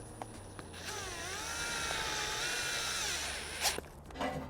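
A power drill whines steadily at close range for several seconds, boring into a tree at a maple farm, its pitch dipping slightly under load before cutting off, followed by brief rustling.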